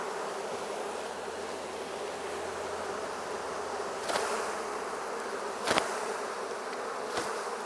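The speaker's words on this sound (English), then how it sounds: "Nice clump of bees there." A honeybee swarm clinging to foliage, buzzing steadily close by, a constant droning hum with a few brief louder bursts.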